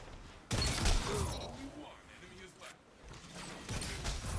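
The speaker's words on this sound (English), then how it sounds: "Just going in with the shotgun there." Shotgun blasts from the Destiny video game, a loud burst near the start followed by further booming shots and game effects, with a player's voice talking over part of it.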